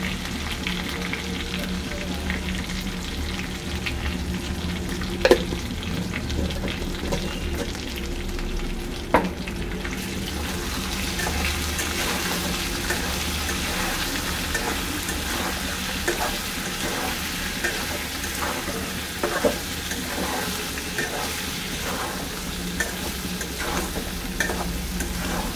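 Vegetables fry in a pan with salt and turmeric, giving a continuous close sizzle broken by occasional sharp clinks and scrapes of stirring. The sizzle runs throughout with no talking.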